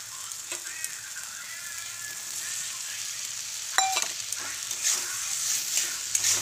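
Fried potatoes sautéed with spice masala in a pan, sizzling steadily up close with occasional utensil clinks and scraping stirs becoming more frequent toward the end; no voices.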